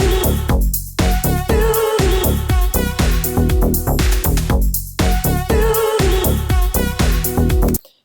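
A bright deep house and nu disco synth lead with pulse width modulation plays loud and full in a dense mix, with a vocal layered over it. The pattern repeats in two matching phrases and cuts off at the end.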